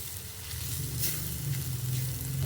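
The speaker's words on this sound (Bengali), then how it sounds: "এটা একটু ভাজা ভাজা করে নিতে হবে নারকেল আর চিংড়ি মাছটা" Grated coconut and shrimp fry in a pan with onion and chili for a taro-stolon dish, giving a steady close sizzle with faint stirring throughout and no talking.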